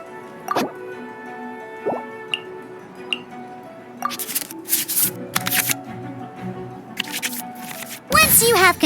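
Cards shuffling back into a draw pile in the Genshin Impact card game Genius Invokation TCG, heard as soft drips and plops with brief bursts of rustling, then a busier flurry at the end.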